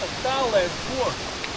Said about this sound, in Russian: Ну они же все так вот, водопады с гор.